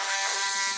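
Small Dremel rotary tool spinning on the faded, oxidized plastic lens of a Zareba SP3 solar fence charger, a brief high steady whine heard close and alone.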